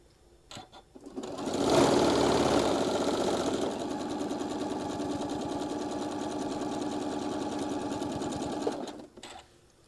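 Sewing machine stitching across a table runner, a steady fast mechanical run that surges loud for a moment near the start, then holds a constant rhythmic whir for several seconds before stopping.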